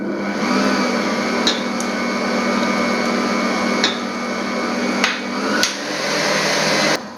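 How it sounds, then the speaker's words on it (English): An electric stand mixer whirs steadily at close range as it beats lemon sponge cake batter, a constant motor whine broken by a few sharp clinks of the beater against the bowl before it stops. "At this point, you stop the mixer and scrape down."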